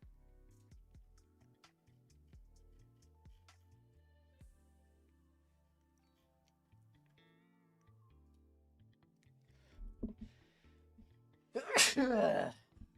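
Near the end, a single loud sneeze bursts out over quiet background clicking and scattered taps.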